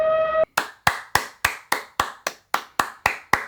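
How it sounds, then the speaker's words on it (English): About a dozen sharp, evenly spaced hand claps ring out close by from a single person applauding after the 1948 film Rope, following a brief tonal sound at the start. "I feel like this is worthy of like some serious applause."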